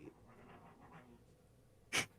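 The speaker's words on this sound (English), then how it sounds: "I apologize if you could hear my dogs fighting." Pet dogs scuffling at home make faint panting and snuffling, then one sharp, loud snort or bark bursts out near the end.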